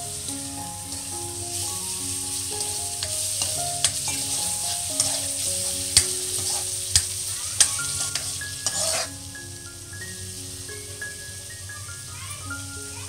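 Tomato puree stirred into a frying masala for street-style pav bhaji, a steady sizzle with repeated spoon clinks against the pan. A tonal melody plays underneath, and no one speaks.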